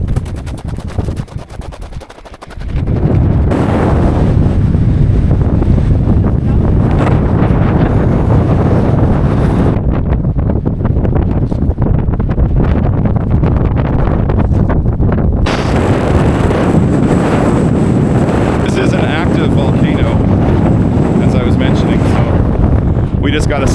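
Strong wind buffets the microphone on a steep, loose volcanic hillside near León, Nicaragua, a loud continuous roar and rumble that drowns nearly everything, easing briefly at the start before blasting steadily throughout.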